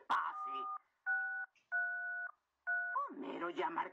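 Touch-tone telephone keypad beeps in a Simpsons scene: four steady dual-tone presses of varying length with short gaps, followed by a voice talking.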